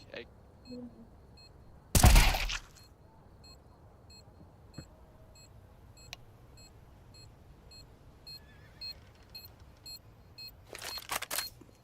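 Planted bomb in Counter-Strike 2 ticking out steady, regular beeps through a match, interrupted by a loud gunfire burst early on and scattered shots and clatter toward the end.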